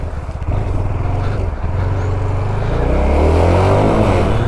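A cold Liebherr 918 excavator engine runs on a construction site with wet roads. The diesel rumble is loud and close, and it swells slightly toward the end.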